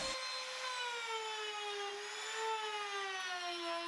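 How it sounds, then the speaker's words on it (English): A handheld router cuts a juice groove into a large wooden cutting board, guided hard against a jig; a steady, loud high-pitched whine holds throughout with slight pitch wavering as the bit moves through the timber, no voices. "I'm going to put the juice groove in for the big cutting board"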